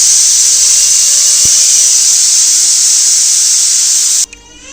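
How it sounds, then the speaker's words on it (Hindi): A pressure cooker whistle in a home kitchen releases a loud, steady hiss of steam for about four seconds, then cuts off abruptly, leaving quiet room tone. "ओती बार कुकर के भी सीटी बजनी स्टार्ट हो गई।"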